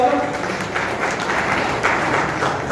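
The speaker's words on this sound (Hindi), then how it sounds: "जोरदार तालियों से एक बार स्वागत।" A convention audience at a national Prajapati federation gathering applauds loudly, a dense burst of clapping that stays strong across the stretch with slight swells, blended with some crowd murmur.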